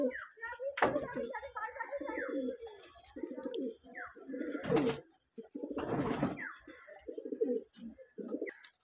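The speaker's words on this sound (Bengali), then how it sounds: "দেখুন ফাইনাল লুকের পায়রা, তাও মাদা পায়রা" Giribaz pigeons coo repeatedly in low, throaty bursts, close by, with a couple of sharp knocks or clatters breaking in between.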